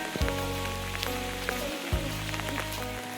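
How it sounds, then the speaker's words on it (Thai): Rain falling steadily, a soft continuous patter over a low droning hum that starts and stops, heard with no talk. "ฝนตกพี่น้องเลย"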